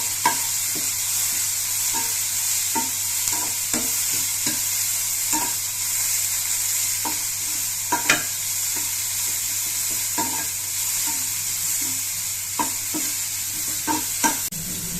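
Mixed vegetables for dosa sautéed in a pan, with a steady loud sizzle of frying and repeated scraping clicks of a stirring spatula at an even rhythm, and no voices.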